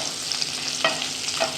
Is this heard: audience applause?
no